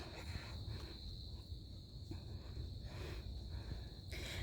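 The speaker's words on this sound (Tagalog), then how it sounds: "Ngayon yan, kuliglig ba yan? Naririnig." Faint, steady high-pitched cricket chirping carries through a quiet outdoor night on a foggy hillside, continuous and distant, with a few soft rustles underneath.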